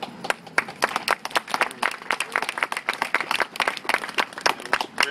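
Audience applause during a mayor's speech, dense steady clapping from a crowd that holds for about five seconds without a break.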